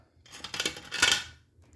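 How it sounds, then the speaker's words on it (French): Scissors snip during a Halloween art collage session, two or three quick close cutting sounds in a short, quiet burst with no voices. "On va prendre des ciseaux."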